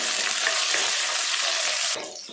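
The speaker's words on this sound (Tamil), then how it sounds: "அது கூடவே 10 பல் பூண்டு, கொஞ்சமாக கருவேப்பிலை எல்லாத்தையும் சேர்த்துட்டு நல்லா வதக்கிடலாம்." Small shallots, garlic cloves and curry leaves sauté in a pan with a loud, dense sizzle and faint stirring, then the frying suddenly drops to a quieter crackle near the end.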